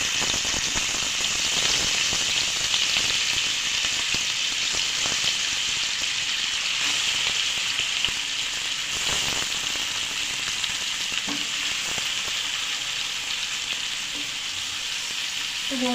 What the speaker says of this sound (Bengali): আমি এই তেলের মধ্যে এবার চিকেনগুলোকে দিয়ে ভালোভাবে ভেজে নিচ্ছি